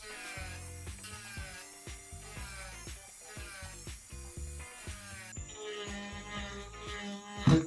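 A rotary burr grinding a metal throwing star, giving a steady high whine with rhythmic chattering bursts as the bit catches and skips, fairly close and continuous, with no talking.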